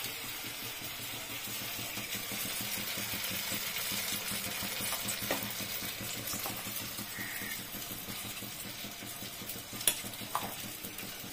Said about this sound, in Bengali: এই যে ভাজা হচ্ছে। মচমচ আওয়াজ করছে দেখুন, চালের গুঁড়ো দিয়েছি, পোস্ত দিয়েছি